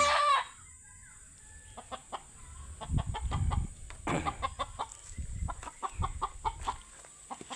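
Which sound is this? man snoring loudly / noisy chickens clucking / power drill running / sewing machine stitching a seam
noisy chickens clucking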